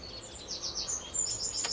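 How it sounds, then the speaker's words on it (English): Warblers call at dawn at a local nature reserve, thin high chirps and short repeated notes at moderate distance over faint background hiss, no voices. "Still plenty of warblers calling"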